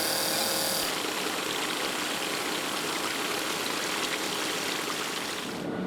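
A grout pump runs steadily as it forces grout into a wall cavity during a house relocation, a loud continuous rushing, churning noise that starts abruptly and holds throughout before easing at the end.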